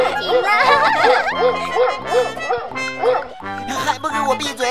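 A pet dog barks in quick repeated bursts, loud and close, mixed with a child's excited speech and higher yips.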